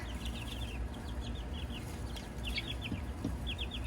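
Fourteen baby chicks of mixed multicolored egg-laying breeds peep inside a brooder, giving rapid, high chirps in scattered bursts over a steady low background hum.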